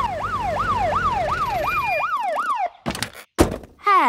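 A Peppa Pig cartoon police car siren wails in a fast, rising-and-falling loop, loud and close, then cuts off into a few sharp thunks and bursts of noise.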